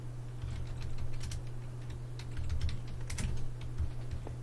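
Steady, quick clatter of keys on a computer keyboard, close and moderately loud over a constant low hum, with no voices.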